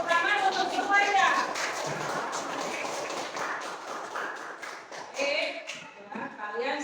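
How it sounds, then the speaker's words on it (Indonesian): A classroom audience claps for a presenting student group at a teachers' training session in Ponorogo. The clapping is a dense, steady patter under a speaking voice at the start and end. "Tepuk tangan untuk semuanya."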